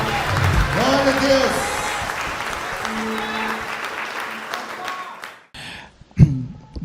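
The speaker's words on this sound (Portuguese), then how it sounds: "Aplauda o Senhor" Church congregation at a missionary conference service applauding, dense clapping mixed with crowd voices and sung tones that fades out after about five seconds, followed by a couple of sharp knocks.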